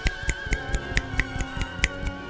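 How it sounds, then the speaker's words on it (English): Fingers snapping in a steady series of about a dozen crisp, close, bright clicks at a quick even pace, with no talking. "This is the sound of me snapping my fingers."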